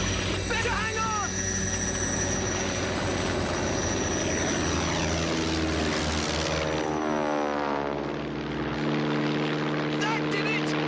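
A propeller airplane engine roaring as it climbs, a loud, continuous, close drone whose pitch sweeps and shifts partway through before settling again.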